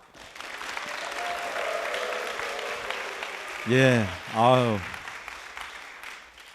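An indoor audience at a Korean sports talk event applauds the host with steady, dense clapping that fades out, then someone speaks briefly.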